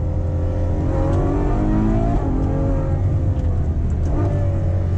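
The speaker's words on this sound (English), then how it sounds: "they'll give it a little bit of acceleration here" A Ferrari FF accelerates from inside the cabin, its engine note climbing steadily through a loud, continuous rising drone with a brief dip partway as the revs reset and build again.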